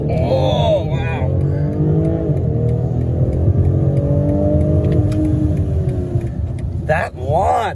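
A 2021 BMW X3 M40i launches hard in sport mode, its engine roaring loud and close with rising and falling gear tones throughout, while people talk and exclaim over it.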